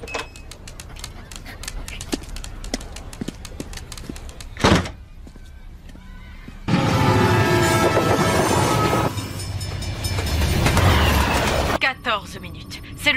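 Cartoon trains rolling on rails, with rhythmic clicking and clattering that gives way to a loud, dense rumble and screech in the middle, broken by sharp bangs, while voices talk over parts of it.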